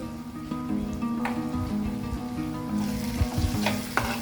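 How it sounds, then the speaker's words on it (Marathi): Peanuts go into a pan of dal palak that sizzles steadily, with a continuous frying hiss, a few small clicks and a stir or two near the end. "शेंगदाणे टाकून घेऊ."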